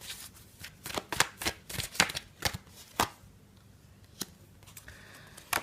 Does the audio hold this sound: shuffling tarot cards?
yes